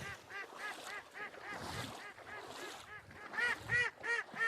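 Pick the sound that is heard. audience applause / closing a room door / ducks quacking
ducks quacking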